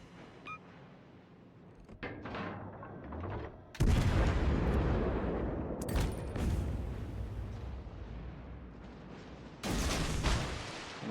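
Warship guns booming in World of Warships Legends, with a few loud heavy blasts whose rumble trails off between shots.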